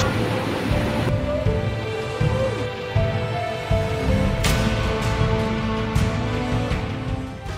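Storm surge waves crash and wash repeatedly against the shore at the Baywalk in Binmaley, Pangasinan, while strong gusts of wind roar across the scene, loud and continuous.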